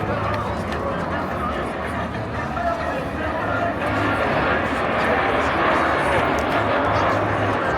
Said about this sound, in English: Now the other aircraft, the brown and the green one, called Alpha Foxtrot, that's a Mark 80A